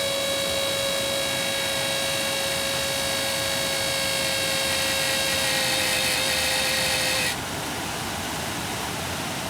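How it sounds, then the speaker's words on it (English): A 1986 Chevrolet Camaro's blower motor runs with a steady whine and broadband hum at close range, then its pitch and loudness drop near the end, no talking. "This is the blower motor, so let's see."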